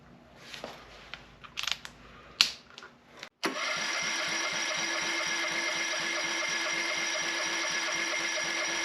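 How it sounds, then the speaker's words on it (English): Mercury 9.9 four-stroke outboard motor cranking during a compression test, starting after a few clicks and handling sounds with a steady, rapid rhythmic churning that runs loud and unbroken, close up. "I'm actually able to do a compression test and see what the compression is with an accurate reading"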